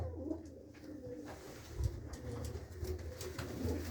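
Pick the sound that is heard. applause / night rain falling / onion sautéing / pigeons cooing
pigeons cooing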